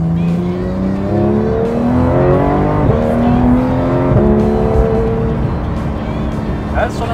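A Porsche 911 GT3 RS with Weissach package, Manthey Racing kit and no petrol particulate filter roars loudly from close by, its engine note climbing through rising revs with gear shifts, while a voice talks over it.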